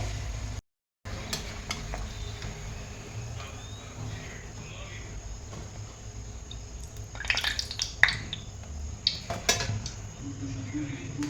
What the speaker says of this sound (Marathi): मस्त असे आपले भटुरे पण अगदी फुलायला लागले गॅस मोठा करूनच तळायचा